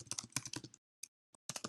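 A formula being typed on a computer keyboard, with a close, brisk cluster of key presses, a short pause broken by two lone taps, then another burst of keystrokes.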